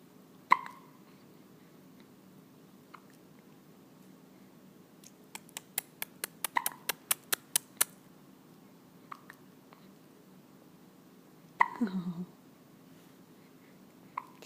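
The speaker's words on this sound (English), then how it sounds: "got some good hiccups." Hiccups from a person, a run of sharp, short, close clicks in quick succession with a few more scattered before and after, in a quiet room.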